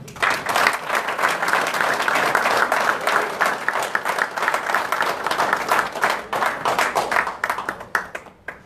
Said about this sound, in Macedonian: Ве молам еден аплауз за нив.